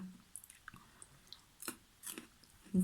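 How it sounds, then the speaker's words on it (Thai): Someone chews a crunchy green guava up close, with a few faint crisp bites and quiet crunching over a short stretch. "กรอบฮะฝรั่งกรอบ"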